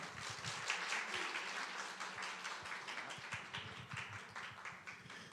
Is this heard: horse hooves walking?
no